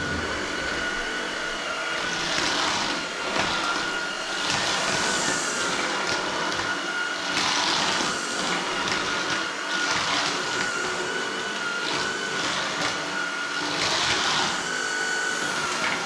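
A Dreame Z30 cordless vacuum cleaner fitted with a soft brush runs along skirting board edges, giving a steady whirring drone with slight swells and no talking.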